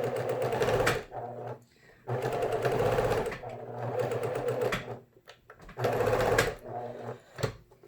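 A sewing machine stitching fabric in reverse runs in three steady whirring bursts, each about a second or more long, separated by brief pauses, close up and loud.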